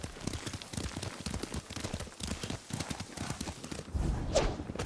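Horse hooves clip-clop at a steady riding pace in the samurai action game Ghost of Tsushima, layered under continuous spoken dialogue with a light patter of rain and a brighter burst near the end.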